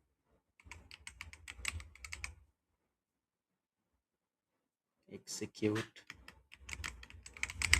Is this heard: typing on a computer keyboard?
yes